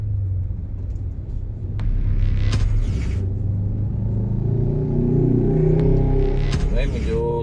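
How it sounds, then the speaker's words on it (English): Road traffic rumbles along a busy street near the LRT-1 Cavite extension works, with passing cars and engines growing louder midway, a low steady drone with occasional clatter and revving. "May medyo traffic ngayon dito."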